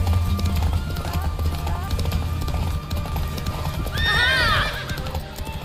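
A horse in the video game Witcher 3 gallops through a forest with steady clip-clop hoofbeats, then gives a loud neigh partway through, over game music and ambient sound.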